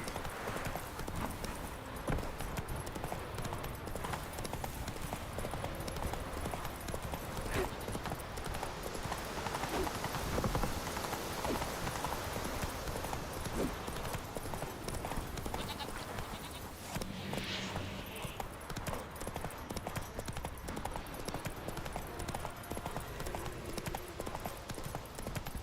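Roach the horse gallops through The Witcher 3, a rapid continuous patter of hoofbeats over a busy ambient backdrop, with livestock-like bleats and occasional game sounds mixed in across the run.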